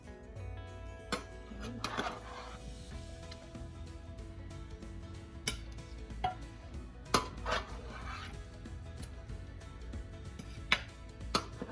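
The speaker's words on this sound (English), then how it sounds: "Taking out the vegetables from the pan." Cooked vegetables lifted out of a roasting pan with a utensil, giving light intermittent scrapes and metallic clinks over a steady low background hum, close and soft.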